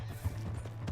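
A horse's hooves clop on the ground in the Red Dead Redemption 2 game, a few quick uneven thuds close by over a low steady hum within one second.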